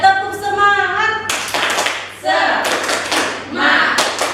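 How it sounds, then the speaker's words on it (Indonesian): A primary-school class joins in a rhythmic group clapping routine, bursts of hand claps and slaps coming in short patterned groups, mixed with children's voices chanting and a teacher speaking in between. "1, 2, 3, tepuk semangat"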